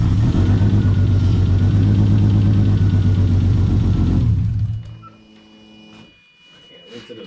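Tuned big-turbo car engine idling with a steady loud rumble for several seconds before it shuts off, leaving faint background noise and a voice.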